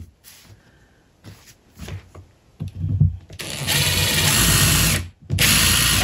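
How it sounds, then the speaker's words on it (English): A power drill bores a hole into scrap wood with a drill bit. A few short hesitant bursts come first, then a loud sustained whine broken by one brief pause, close to the microphone. "I wanna do my little drill bit in the middle."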